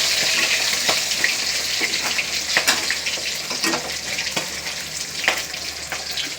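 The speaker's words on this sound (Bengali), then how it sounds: "আমি বেশি করে না মাছ দিয়ে ভাজতে পারি না, এই জন্য দুটো দুটো করে দিয়ে ভাজছি" Fish pieces fry two at a time in hot oil for a home-cooked fish curry, giving a steady close sizzle with scattered pops and crackles.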